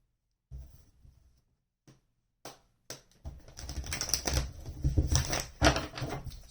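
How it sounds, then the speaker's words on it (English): A deck of cards shuffled during a tarot reading: a few short riffling bursts, then a longer, louder run of dense flapping and rustling card noise, close and alone. "Let's get one more shuffle in here."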